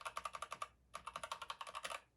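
Rapid keystrokes on a Keychron K8 mechanical keyboard, two bursts of crisp even clicks separated by a short pause, close and alone with no voices.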